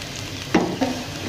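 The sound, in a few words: frying in oil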